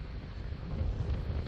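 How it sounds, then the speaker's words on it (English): Wind blows across an open desert trail, a low, rough buffeting rumble against the microphone, steady and moderately loud with no voices. "And it's windy, of course, getting super windy again."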